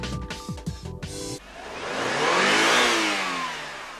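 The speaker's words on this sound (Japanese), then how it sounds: "エンジン音も1車種ずつ個別に収録する。" A car engine recorded for the Gran Turismo 3 racing game, heard after a brief burst of other sounds. It swells into a loud, close rev that peaks and then slowly falls away.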